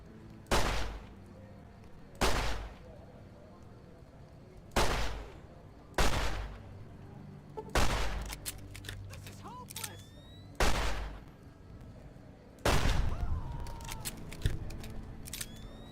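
Gunfire from the video game Fallout: New Vegas, with about seven loud, separate shots spaced a second or two apart, each with a sharp broadband crack and a short tail over a faint game backdrop.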